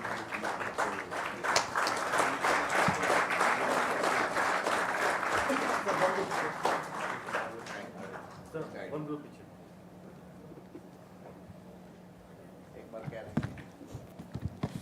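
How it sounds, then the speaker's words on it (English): Audience applause at a workshop on transit oriented development, a dense burst of clapping that fades after several seconds into quiet room noise with a few scattered claps. "Let's all give a big round of applause to all our panelists for their valuable time and their insightful session."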